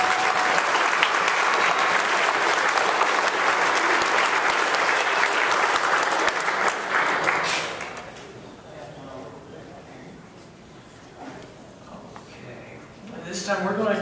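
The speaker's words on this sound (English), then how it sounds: "give all of these inductees a round of applause to congratulate them" An audience at a college honor society induction ceremony applauds the inductees with loud, sustained clapping from a large crowd that lasts about seven seconds and then dies away into quiet room noise and faint murmuring.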